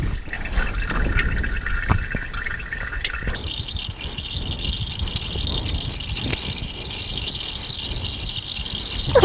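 Engine oil from a 2019 Honda HR-V drains in a steady trickle into a bucket, with occasional drips and splashes, close and continuous, without talk.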